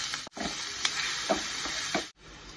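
Onion and garlic fry in a hot pan with bacon fat, giving a steady sizzling hiss broken by a few stirring scrapes and clicks, close and continuous, with short silent gaps.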